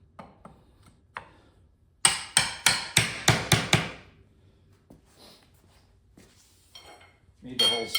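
Aluminum balusters tapped into tight holes in a home-built wood deck railing: a fast run of about eight sharp, ringing knocks, loud and close, between sparse quieter taps and faint handling noise.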